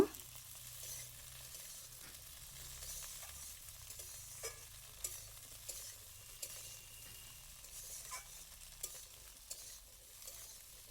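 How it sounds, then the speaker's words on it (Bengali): Okra stir-frying with onions in a pan, a faint continuous sizzle with soft scraping strokes of a spatula recurring every second or so, no voices. "পেঁয়াজের সাথে ঢ্যাঁড়সটাকে একটু ভালো করে ভেজে নেব"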